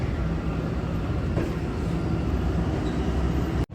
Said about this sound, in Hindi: दूसरी तरफ से एक ट्रेन पास हो रही है।